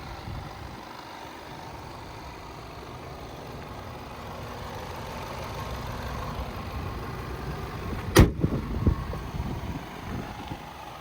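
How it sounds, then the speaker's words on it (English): A 2014 Range Rover Sport HSE engine running at idle, a steady low rumble building slightly in loudness, with a sharp brief click or knock near the end. "The engine runs good."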